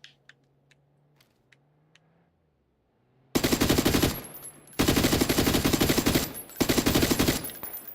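Automatic rifle fire in PUBG on Xbox, loud sustained bursts that cut in suddenly after a quiet stretch of faint clicks, broken by short pauses between volleys.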